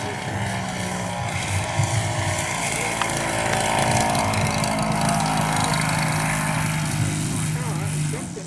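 A model Fokker DR.1 airplane coming in to land at an outdoor air show, its engine a steady buzzing drone that stays moderately loud throughout, mixed with wind noise.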